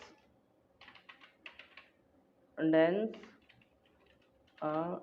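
A computer keyboard is typed on in Excel, including an Alt+Enter keystroke. A short burst of light, quick key clicks comes early, and a voice speaks briefly twice in a quiet room.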